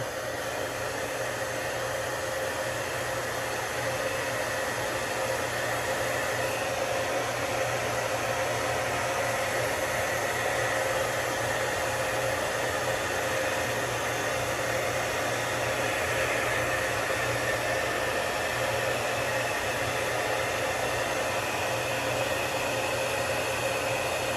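A hair dryer blows a steady, loud stream of hot air onto a beard during grooming, a continuous broadband roar with no pauses and no talking.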